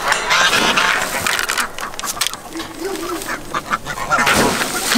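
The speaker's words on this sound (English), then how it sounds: "I hear you, geese." Geese and other poultry calling inside a barn at feeding time, a busy overlapping run of honks and quacks that stays loud and close throughout.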